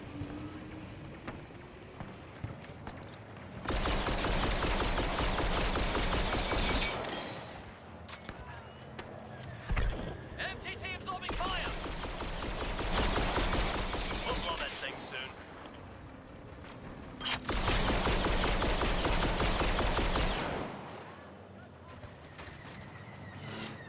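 Blaster fire in Star Wars Battlefront 2 Galactic Assault with clone troopers, dense bursts of rapid shots in three long loud stretches, separated by quieter gaps of game ambience.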